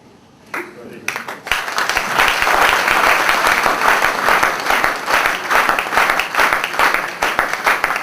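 Loud audience applause at a celebration as a bouquet is presented to a guru, starting abruptly after a brief quiet moment and then holding as dense, sustained clapping.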